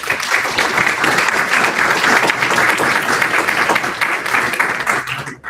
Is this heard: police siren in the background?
no